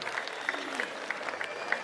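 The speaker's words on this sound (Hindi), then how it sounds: "जोरदार तालियों के साथ स्वागत करें" Applause from a trade fair audience welcoming a speaker, with a steady wash of clapping and a few sharper claps standing out, moderately loud with crowd murmur underneath.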